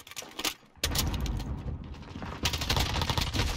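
Rapid gunfire in a shooter video game rattles in dense bursts, a short volley, a brief pause, then sustained loud shooting close up.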